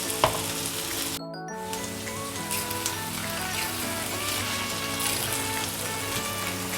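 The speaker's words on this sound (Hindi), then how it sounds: "अच्छा, 5 मिनट तक मैंने इसे फ्राई किया है।" Okra frying in a pan gives a dense, steady crackle and hiss of oil close by. A low tonal hum runs underneath and the sound drops out briefly near the start, with no voices.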